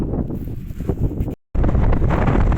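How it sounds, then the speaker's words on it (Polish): Loud, blustery wind buffets the microphone in low roaring gusts, cutting out briefly before surging back even stronger. "znowu się wiatr zrobił"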